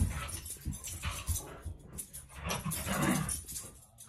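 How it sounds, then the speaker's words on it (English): Puppies playing together, with close, lively whimpers, yips, small growls and panting coming in irregular bursts throughout, fairly loud and alone with no talk. "You hear my puppies having a play date?"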